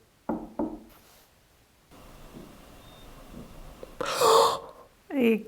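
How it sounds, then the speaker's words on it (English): Two sharp knocks, apparently on wood, during a ghost-hunting session, heard faintly against a quiet room with some breathing and movement around them, followed by louder rustling. "I just heard the two knocks then."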